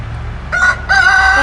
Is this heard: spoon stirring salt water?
no